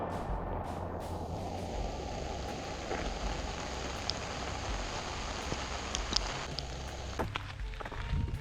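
Rain falls steadily on a tent at night during a thru-hike on the Rideau Trail, a dense, even patter with a few sharper drops striking close by.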